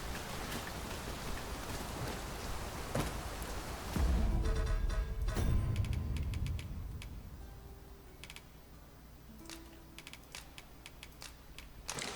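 Rain patters steadily across a surface in the video game Dragon's Dogma 2, dense and crackling at first, then thinning to lighter scattered drops.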